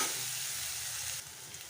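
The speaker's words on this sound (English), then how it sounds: "as the ginger garlic is frying" Steady, dense sizzling of ginger garlic paste frying in a hot pan, close and continuous, with faint stirring underneath.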